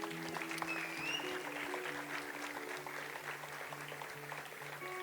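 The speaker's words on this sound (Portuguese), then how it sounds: "Dá uma salva de palmas aí." A church congregation claps together after a prayer, a steady wash of applause filling the room at moderate loudness with a low tone droning beneath it.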